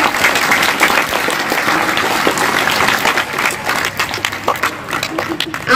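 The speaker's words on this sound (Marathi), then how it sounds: "एकदा सर्वांनी जोरदार टाळ्या वाजवायच्या." Loud, sustained applause from a large school audience at a 40th anniversary celebration, dense clapping filling the whole stretch and thinning slightly toward the end.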